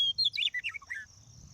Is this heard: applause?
no